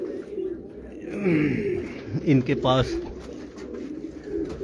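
Pigeons kept in a fancier's loft, cooing in deep, rolling phrases at close range, with a person speaking briefly over the calls.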